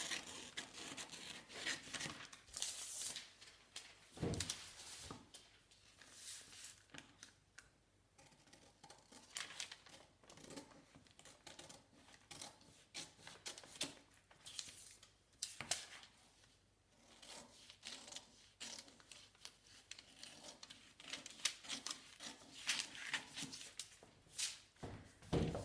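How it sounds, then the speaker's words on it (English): Scissors snip around paper dress-pattern pieces for a bodice block, close and quiet, with irregular crisp cuts, paper rustling and handling noises scattered throughout. "I'm going to get my scissors again, and I'm going to cut around the pattern pieces."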